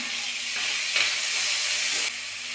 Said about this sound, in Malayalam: ഇതിലേക്ക് നമുക്ക് ചെറിയ ഉള്ളി ഇഞ്ചി വെളുത്തുള്ളി പച്ചമുളക് കൂട്ടിട്ട് ഒന്ന് വഴറ്റിയെടുക്കാം